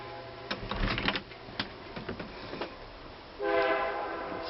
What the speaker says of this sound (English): Stupid train.